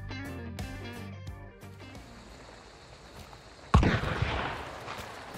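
A single loud shotgun slug blast in Hunt: Showdown cuts in sharply after soft melodic game music, followed by a brief echoing decay.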